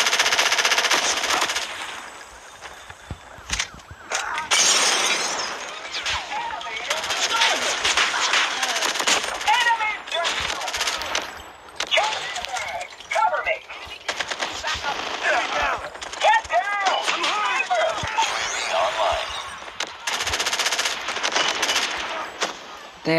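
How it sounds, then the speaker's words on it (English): A sentry gun fires in a Call of Duty match, with loud, rapid automatic bursts rattling almost nonstop and brief gaps between volleys. "They have a sentry gun."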